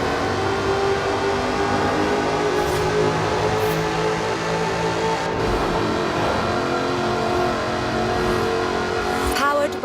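A Jaguar-style sports car with a 5-litre supercharged V8 and aluminium body in Forza Horizon 4, its engine droning and revving steadily and loud throughout, with a few brief sharper bursts and talk over it.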